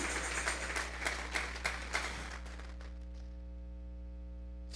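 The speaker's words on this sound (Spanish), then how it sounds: "Vamos a regalarle ofrenda de palmas al Dios de la gloria." A church congregation at a Sunday service claps together as an offering, a dense burst of rhythmic applause for about three seconds that thins out and stops, with a steady low hum beneath.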